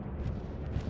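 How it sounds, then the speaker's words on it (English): Low rumbling explosion from a bombing run in the World War II shooter Hell Let Loose, a dense continuous boom of distant blasts filling the brief moment. "I hear a bombing run."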